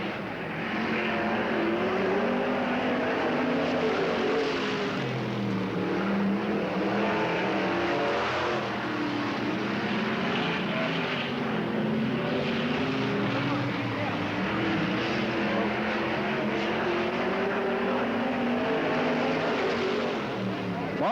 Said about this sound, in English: Ford 360, throwing a little bit of smoke out the back.